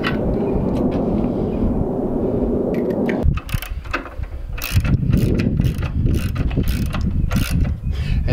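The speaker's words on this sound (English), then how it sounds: "yes, I do have a half inch ratchet, but I couldn't find the extension, so that's why I'm on the 3/8 one." A 3/8-inch ratchet being worked during an AEV fuel caddy install: steady mechanical grinding at first, then a run of sharp close-up clicking and ratcheting bursts, loud with no talk.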